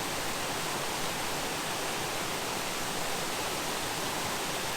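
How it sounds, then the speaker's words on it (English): Creek swollen by recent heavy rain cascades down a hillside in Porcupine Mountains State Park, Michigan, producing a steady, full broadband rush of flowing water that continues unbroken and close by throughout, with no voices. "Walking along this creek with the constant cascading down the hill"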